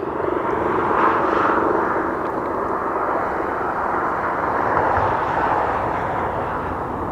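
A privately owned Cessna Skyhawk light aircraft drones at Aberdeen Airport, a steady, moderately distant engine rumble that swells slightly and holds for several seconds.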